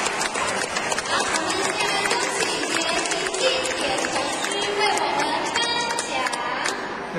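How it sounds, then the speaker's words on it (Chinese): Audience applause for young children who passed an assessment, steady dense clapping filling the room throughout, with crowd chatter mixed in. "再一次用掌声来鼓励他们"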